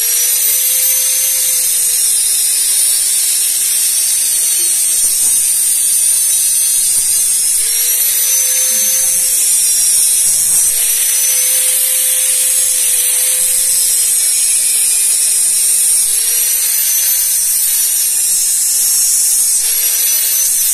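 A power tool cuts through a motorcycle fender with a loud, continuous high-pitched whine that holds steady with slight wavering in pitch for the whole stretch, with no voices.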